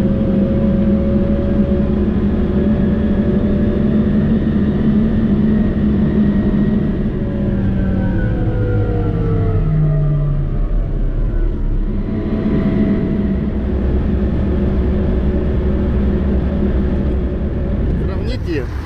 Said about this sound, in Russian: И погнали на новом Caterpillar'е.